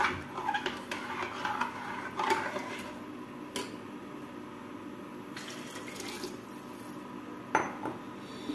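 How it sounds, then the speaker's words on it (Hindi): Water poured into a pan of roasted palak khichdi, a steady close splashing stream with occasional clinks of the pan, fairly quiet and without talk. "अब इसमें पानी ऐड कर देती हूँ।"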